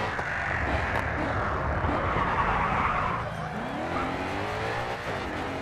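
Damaged race car engine and tire skidding in the racing video game Grid 2: a continuous loud engine drone with squealing, scrubbing tires throughout, steady and close with no talk.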